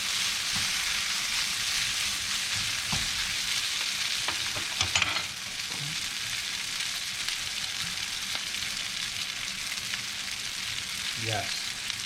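Shrimp pad thai stir-fries in a pan with a continuous loud sizzle, broken by clanks and scrapes of stirring, steady and close throughout with no speech.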